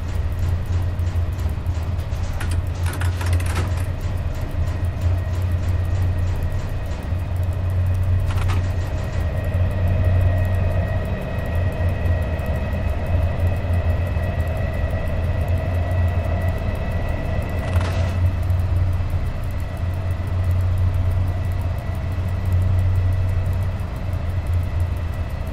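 An EU07 electric locomotive in the SimRail train simulator, hauling six wagons from Warszawa Wschodnia toward Katowice, runs with a steady, loud, continuous rumble and rolling drone, marked by a few brief clacks along the way.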